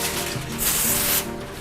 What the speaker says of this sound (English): Spray your foil